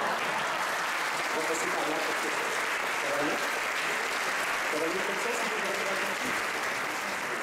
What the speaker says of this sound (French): vous repartirez avec les applaudissements du public